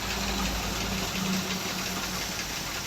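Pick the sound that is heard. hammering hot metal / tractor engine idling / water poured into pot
tractor engine idling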